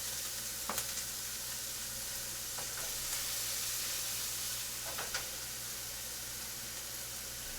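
An omelette frying in a pan gives a steady soft sizzle throughout, fairly quiet, with a few faint clicks and taps over the hiss and no talking.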